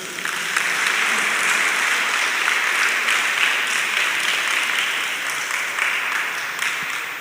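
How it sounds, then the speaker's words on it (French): A crowd of children gives teachers and educators another round of applause at a laureates' ceremony, a thick, continuous wash of clapping that holds evenly throughout, loud and close. "D'applaudir encore une fois tout le corps des éducateurs."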